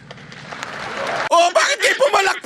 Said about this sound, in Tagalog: Bakit kayo pumalakpak?